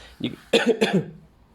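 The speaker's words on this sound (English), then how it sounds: "My goodness, I'm attacked by a cough." A man gives a short burst of two or three harsh coughs at close range, with a brief throat sound just before them.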